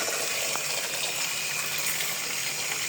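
Water gushes steadily into a drinking container for Philippine box turtles, a continuous close splashing rush with no pauses.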